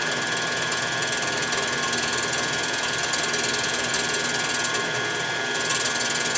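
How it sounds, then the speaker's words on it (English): A milling cutter engaging on a metal hump on an M38 "Go Devil" part, steady grinding, chattering metal-on-metal cutting noise with a bright, harsh edge, continuous and loud throughout, no voices. "You can hear the cutter trying to engage as it comes up on the hump."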